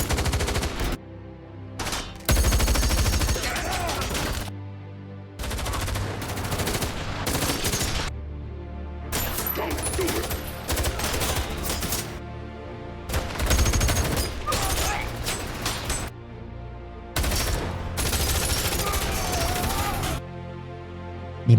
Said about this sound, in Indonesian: Mereka pun akhirnya harus terlibat adu tembakan.